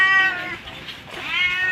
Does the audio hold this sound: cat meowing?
yes